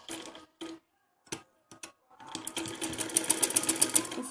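A sewing machine stitches the side fitting seams of a fancy top. A few short separate bursts come first, then a steady, close, rapid stitching run fills the second half.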